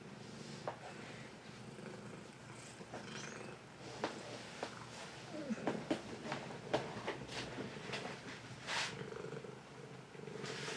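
A house cat purrs softly and close by, a low, faint rumbling with a few quiet rustles and snuffles mixed in.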